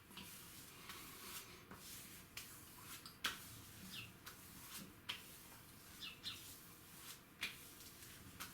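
Birds chirp outside a window in short, repeated tweets spread across the whole stretch, faint and distant against a quiet indoor room.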